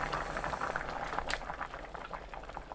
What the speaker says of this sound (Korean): 센 불로 2분 더 끓입니다.